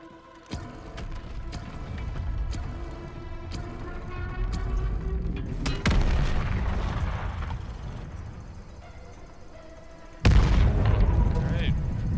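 Heavy artillery fire in a video game: deep booming blasts over a dense rumbling battle bed, with a big impact near the middle and another sudden, louder burst toward the end.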